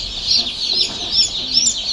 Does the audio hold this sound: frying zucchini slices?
no